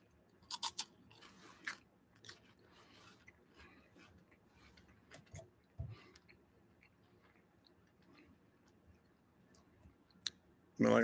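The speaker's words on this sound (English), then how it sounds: "If you don't mind me eating my little sugar cookie." A small sugar cookie is eaten close up, with scattered crisp clicks and soft chewing crunches in short bursts against a quiet room background.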